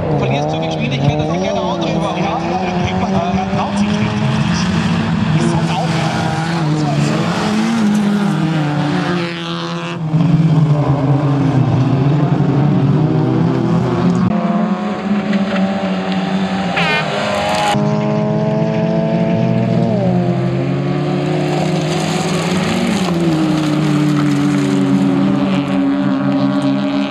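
A Fiat Seicento rallycross car racing at an event in Poland, its engine screaming loud and close with rising and falling revs and gear changes, a brief lull midway, with people talking over it.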